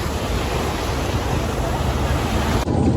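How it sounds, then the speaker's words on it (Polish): Steady rushing noise of sea waves with wind buffeting the microphone on the island of Brač, Croatia, loud and continuous without pause. "i ogólnie są fale, bo jest wietrzyście trochę"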